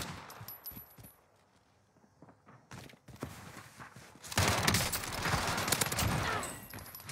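Heavy gunfire in a video game match, scattered shots early on and then a loud sustained burst of automatic fire in the second half.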